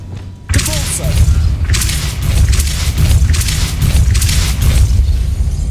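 The Depulso spell is cast in the Hogwarts Legacy video game. A sudden loud, forceful burst hits near the start and is followed by a sustained, churning rumble with pulsing surges.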